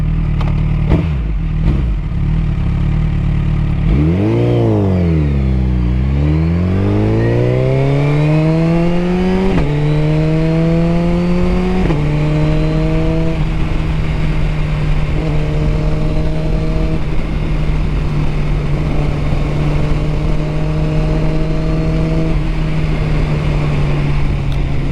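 A 2022 Suzuki Hayabusa motorcycle with a tuned exhaust drones steadily while riding, its engine pitch rising and falling through gear changes under constant heavy wind noise.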